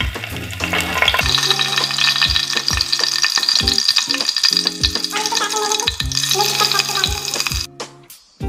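Cumin seeds and bay leaves crackle and sizzle in hot oil, a steady loud frying hiss with rattling pops, close up and with no voices, fading near the end.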